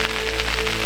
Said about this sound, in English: we currently have some freezing drizzle coming down